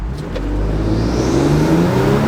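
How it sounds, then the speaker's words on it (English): Modified Ford Police Interceptor accelerating uphill in first gear, a loud, rising engine roar and whir heard from inside the car, continuous and steady throughout. "that was the first gear pull uphill, and that was more powerful."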